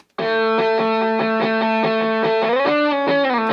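A crunchy, distorted electric guitar in a 90s rock and punk style plays a steady rhythmic chord pattern, loud and sustained, with a pitch shift near the end and a reverberant wash from Valhalla Room reverb.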